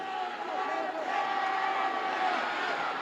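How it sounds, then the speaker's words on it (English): A pro wrestling arena crowd in Houston roars continuously with a sustained chanted tone rising through it, loud and dense, the mass of voices filling the whole stretch. "Now the crowd starts the concerted chant. Just listen to that roar there"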